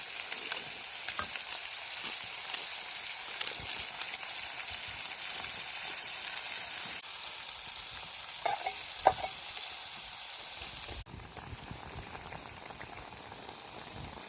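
Murrel fish frying in spice masala in a pan outdoors, giving a steady close sizzle and bubbling hiss with a few soft clinks and stirring knocks. No one speaks.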